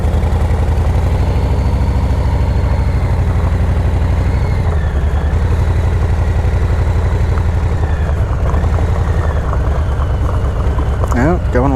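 A Honda Magna motorcycle engine pulls away in first gear, with a steady, loud low engine drone that climbs slightly as it moves off, close to the rider, and a voice talks over it.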